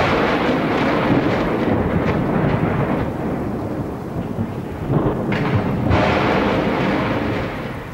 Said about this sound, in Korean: 그때 갑자기 귓전을 울리는 천둥 소리가 울리더니 곧이어 금성 남문 위에 벼락이 떨어졌다